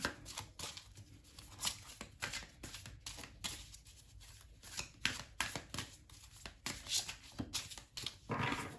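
Tarot cards being shuffled by hand, a close, quiet run of rapid papery riffles and flicks repeating in irregular bursts, with no voices over them.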